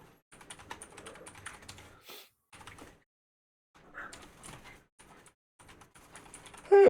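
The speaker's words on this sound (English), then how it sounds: "Enjoy the sounds of me typing" Bursts of keyboard typing come in irregular clusters with short pauses between, fairly close and moderately loud, ending in a sharper louder knock; no talking.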